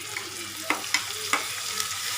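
Onions and tomato fry in a pan for mor kulambu while a spoon stirs them, with a constant sizzle broken by several sharp scraping taps of the utensil against the pan.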